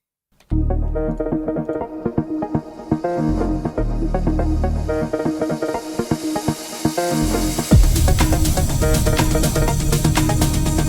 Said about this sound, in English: we can continue to add some reverse crashes